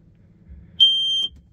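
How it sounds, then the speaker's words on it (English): A smoke detector installed in a vintage 1970 trailer sounds one loud, steady electronic beep lasting about half a second, standing alone over quiet room tone. "we also include a smoke detector"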